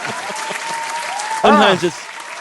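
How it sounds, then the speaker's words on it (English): A few podcast hosts clap lightly in a studio, a sparse patter with a voice breaking in partway through. "I'll clap to that."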